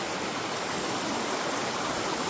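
Knee-deep stream water flowing steadily near a forest path, a dense continuous rushing wash with no breaks or voices.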